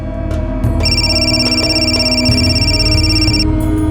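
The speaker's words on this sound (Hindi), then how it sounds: "अरे किसका फोन आ रहा है बार बार?" A telephone rings repeatedly with a steady electronic trill, loud and close, over a low background hum.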